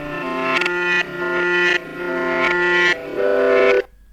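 Distorted excerpt of a pop song, heard as a loud, warped pop song playing alone with regular bursts, then cutting off abruptly near the end.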